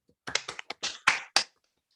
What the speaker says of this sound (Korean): 자, 모두 박수.